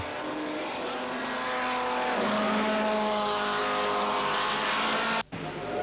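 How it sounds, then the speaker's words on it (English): Classic race cars, among them a Ferrari, a Jaguar and a Triumph TR4, roar past at the end of a lap, engines loud and close with rising and falling pitch before a brief cut near the end. "The cars come round at the end of the first lap."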